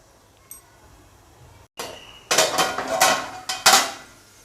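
Metal lid set down onto a pan of frying okra in a home kitchen, giving a soft tap followed by several bright clanking knocks of metal on metal, close and fairly loud with no talk.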